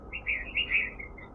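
Small birds outdoors chirp in a string of bright, quick tweets that rise and fall, fairly close and clear over a faint background hush, with no talking.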